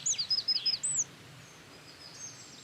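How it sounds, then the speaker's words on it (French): A Eurasian wren sings a rapid, bright series of high trills in rural countryside, moderately close and clear over a soft steady background hiss, then falls quiet as faint distant chirps continue. "il y a le troglodyte qu'on entend bien, qui a une strophe assez sonore"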